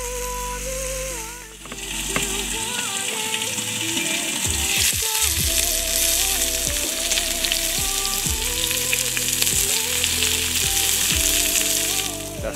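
Fried potatoes with freshly cut onions sizzling loudly in a pan, a dense continuous crackle and hiss with occasional stirring clatter, set against a steady outdoor hum.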